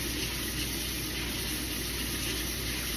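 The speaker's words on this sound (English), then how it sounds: "I'm just using my little mesh strainer, and I just run it under some cool water" Cool tap water runs steadily over rice held in a small mesh strainer, a constant close-up hiss and splash that continues without a break and without talk.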